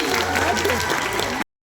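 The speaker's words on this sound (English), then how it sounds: "Let's have a big round of applause for Colette, everybody." An audience at a live science show in Yeovil, UK, breaks into loud, dense applause for a brief moment before it cuts off abruptly.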